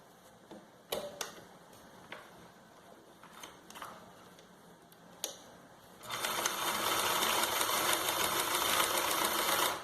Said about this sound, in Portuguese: vai passar uma costurinha reta em cima de cada um, prendendo para não soltar